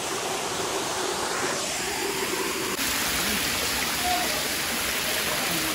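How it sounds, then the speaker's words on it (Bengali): A waterfall in the Bandarban hills, a loud, steady broadband rush of falling water heard up close and filling the whole scene without letup. "আমরা আর একটা ঝর্ণায় চলে আসলাম"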